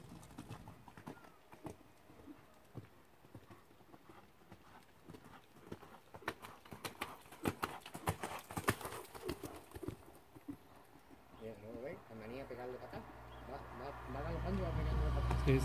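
Faint hoofbeats from a ridden Andalusian gelding, rhythmic canter footfalls in an arena, with people talking throughout and a vehicle-like rumble rising toward the end.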